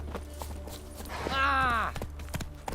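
Roach the horse's hooves clip-clop in The Witcher 3 as a string of light, evenly spaced knocks, with a brief whinny-like cry rising in the middle and scattered game voices around it.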